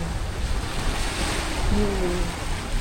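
Ocean waves wash steadily at high tide on Boracay beach at Station 1, a continuous near surf roar with wind buffeting the microphone, no talk.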